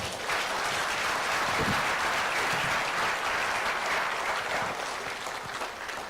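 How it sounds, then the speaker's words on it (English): Steady applause fills a hall at a book launch event, a crowd clapping continuously at moderate loudness for about six seconds without voices. "Let's give him another round of applause."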